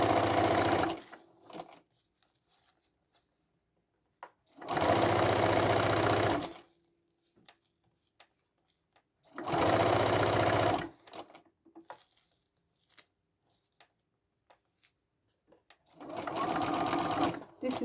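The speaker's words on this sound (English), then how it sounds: "I'm sewing on leather" Sewing machine stitching through leather for a red velvet tote bag, running in four loud bursts of steady whirring separated by quiet pauses with faint clicks, close up.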